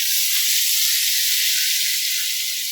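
Hot tempering (tadka) poured into a pot of kadhi gives a loud, steady, hissing sizzle that holds at full intensity throughout, with no voices.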